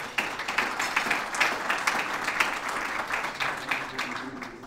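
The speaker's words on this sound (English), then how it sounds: "so give yourself a round of applause." An audience at a Houston Club business event gives a round of applause, a dense patter of clapping that is moderately close and fades slightly toward the end.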